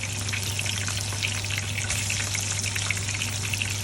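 Fenugreek seeds fry in sesame oil in a pan, giving a close, steady sizzle with dense crackling and popping and a low hum beneath.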